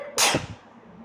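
A single sharp, explosive sneeze bursts out nearby, loud and brief, then trails off into quiet room tone.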